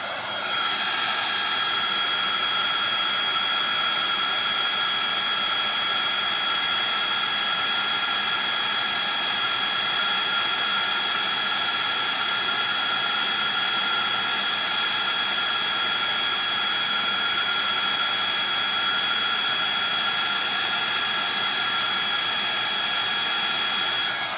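A steady, loud whirring heat tool blower melting embossing powder runs unbroken for the whole stretch, a constant high hiss-like hum with no speech.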